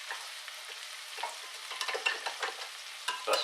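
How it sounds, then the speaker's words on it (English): Broccoli soup ingredients being stirred with a spoon in a pot, a soft sizzling bubble broken by light irregular scrapes and clinks of the spoon, near and fairly quiet. "I'm going to get a spoon. I can mix that in a bit."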